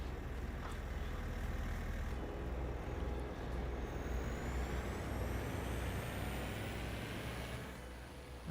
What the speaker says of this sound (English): We may have to move the truck.